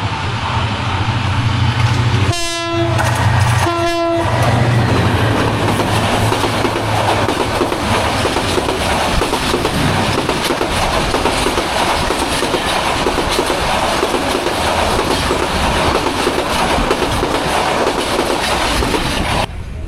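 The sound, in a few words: Udayan Express train passing at Montola station at night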